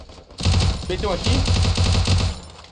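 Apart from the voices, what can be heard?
gunfire in a shooter video game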